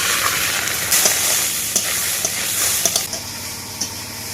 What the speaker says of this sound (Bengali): এবার ডালটা হালকা করে ভেজে নেব।